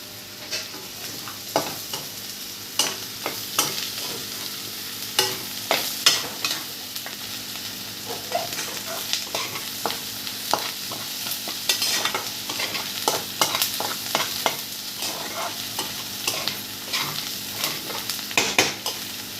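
Prawn curry fries in a pan while being stirred, a steady sizzle with frequent scraping and clinking strokes of the spoon running throughout, close and fairly loud, no talking.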